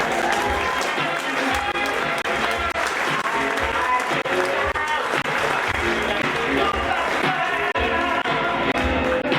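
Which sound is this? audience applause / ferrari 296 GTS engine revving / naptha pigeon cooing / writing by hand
audience applause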